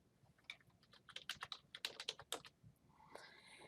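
A computer keyboard clicks through a short run of quick, close keystrokes, typing a command in AutoCAD 2020, then falls quiet apart from a soft hiss.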